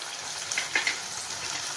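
Spices fry in oil for paneer pasanda with a steady, close hissing sizzle and a couple of faint crackles, alone without speech.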